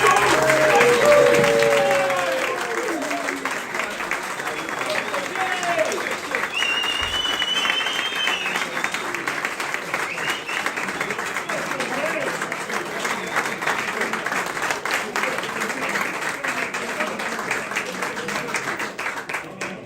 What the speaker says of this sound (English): please, big round of applause for George